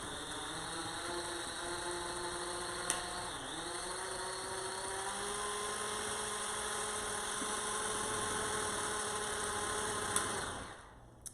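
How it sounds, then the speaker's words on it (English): An electric stand mixer beats cream cheese, giving a steady close motor whine with shifting pitch that sweeps briefly as the speed changes, running continuously before cutting off near the end. "turn the blender on, or the mixer rather. Speed that up just a little bit, just to break up this cream cheese a little."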